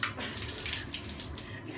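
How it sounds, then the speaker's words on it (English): Water pouring out in a steady, fairly faint rushing splash that runs unbroken for a couple of seconds. "Pour the water out."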